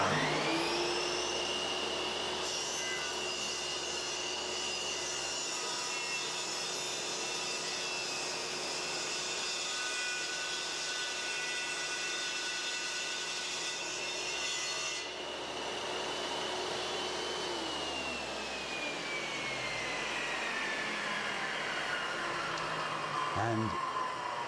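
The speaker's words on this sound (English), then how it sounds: "and then you can very easily do the cut." A Triton Workcentre saw running a bevel rip cut through wood gives a continuous loud motor whine with a grinding cutting tone, holding steady for about fifteen seconds before spinning down and winding off.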